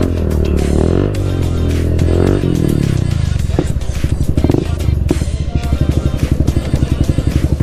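A Kawasaki Z800 and a lineup of other motorcycles idle together before a Sunday group ride to Sadra Fort, a loud, steady throbbing rumble of engines close by that continues throughout.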